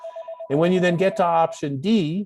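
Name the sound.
telephone ringing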